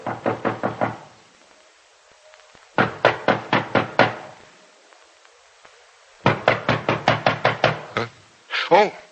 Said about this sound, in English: At first, he doesn't hear the knock at the door.